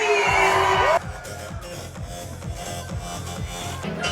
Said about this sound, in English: 3, let's scream for the Big Bad Wolf.